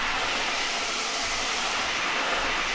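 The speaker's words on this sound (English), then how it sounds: "Then you have a loop, which sounds like this." Foley loop for a car tyre screech in a video game, made by scraping a hot water bottle across wood: a steady, dense, hissy squeal that holds at an even level without a break and with no talk.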